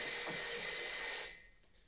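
A telephone bell in a 1976 Pink Panther film scene rings loudly and steadily for just over a second, then cuts off into near silence.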